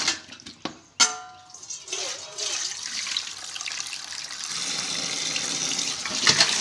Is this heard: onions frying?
no